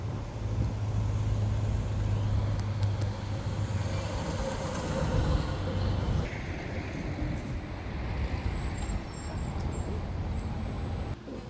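A car drives across the Golden Gate Bridge in San Francisco, with a steady low road rumble and traffic noise from start to finish and no talking.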